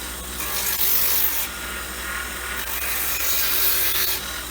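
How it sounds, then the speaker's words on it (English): A grinder smooths the edge of an orthotic slide, making a continuous close rasping, rubbing whine with slight swells in loudness and no talk. "So then we'll be off to the grinder. Okay, so we're grinding the orthotic slide."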